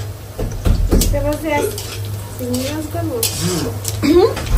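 Bitter gourd frying in a pan with a spatula stirring and scraping against the metal, soft sizzling and clinks in a home kitchen, running under a conversation between people.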